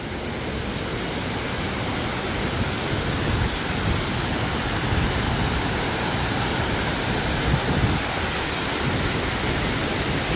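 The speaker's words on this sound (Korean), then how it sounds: "물보라가 엄청나게 쳐요." Oklyang Falls on Baegaksan in Sangju roars close by as spray crashes between rocks. The rushing noise is dense and constant, with no pauses and no voices.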